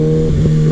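A 2016 Kawasaki ZX6R 636 sport bike engine holds a loud, close, steady high-pitched drone, with a brief rev swell near the middle of a very short burst.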